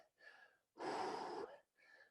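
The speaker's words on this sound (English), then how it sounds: "The task here is to suppress that heavy breathing and bring it under control." A person breathing heavily after exercise, heard up close: a short breath, then a long, loud, rough exhale, then another short breath, with no talk.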